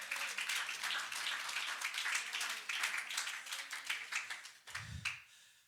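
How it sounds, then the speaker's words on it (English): A church congregation claps their hands in praise, a dense, lively burst of many overlapping claps lasting several seconds before it fades, followed by a brief low thump. "somebody clap your hands to the Lord"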